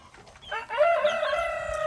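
A GSB chick in a coop, part of a flock with coccidiosis, gives one drawn-out, harmonic, slightly wavering call that rises in and holds for over a second.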